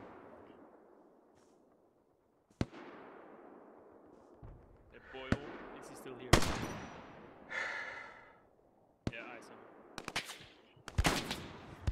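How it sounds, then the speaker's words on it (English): Scattered gunfire and distant explosions from the Hell Let Loose World War II game, with sharp isolated shots, a booming blast and short bursts over faint ambient noise, while players talk. "Yeah, taking fire from southwest."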